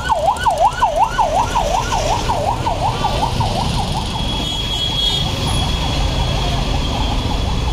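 An ambulance siren wails in quick repeated sweeps amid congested traffic rumble, loud at first and then fading into the background noise of vehicles.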